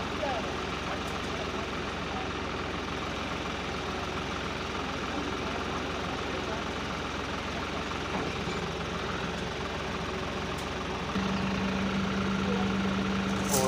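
John Deere and New Holland tractors run their engines during a tractor tug-of-war contest, a steady loud diesel drone lasting throughout, with the pitch rising slightly near the end as the clutch engages.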